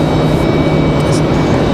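A Southwest Boeing 737-700 airliner arriving at Raleigh Durham International Airport gives a steady, loud broadband jet engine roar with a low hum, continuous throughout and heard without any voices.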